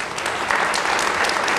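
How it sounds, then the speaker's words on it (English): An audience at a community marijuana forum applauds steadily for the full stretch, a dense, continuous wash of clapping with no voices standing out. "Give him a round of applause, would you please?"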